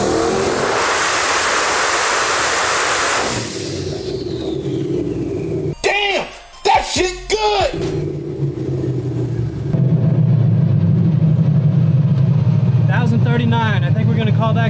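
A 1,000 hp turbocharged small block Ford engine with Holley EFI on a dyno drones loud and steady, then drops to a rough lower roar with short crackling revs and brief tonal bursts.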